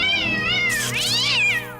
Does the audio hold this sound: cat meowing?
yes